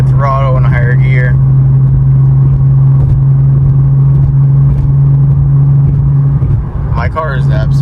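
Nissan 370Z fitted with a DC Sports single-exit exhaust and Y-pipe, pulling under throttle in a higher gear at around 70 mph: a loud, steady low droning inside the cabin, with someone talking over it at the start and end.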